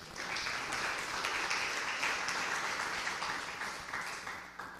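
A church congregation applauding during a worship service, a sustained wash of many hands clapping together at moderate distance, steady throughout and easing off slightly at the end.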